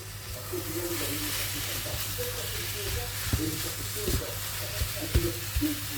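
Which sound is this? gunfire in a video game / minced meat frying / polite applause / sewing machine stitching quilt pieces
minced meat frying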